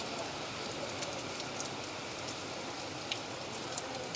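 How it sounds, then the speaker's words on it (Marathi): Heavy rain pours outside in the early morning, a steady fairly quiet hiss with scattered drop ticks and no talking. "बाहेर बघा, पाऊस एकदम दबाके चालू आहे"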